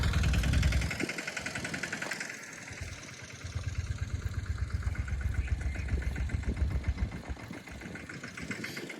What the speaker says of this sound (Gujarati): પપ્પા જો ટ્રેક્ટર રાખે છે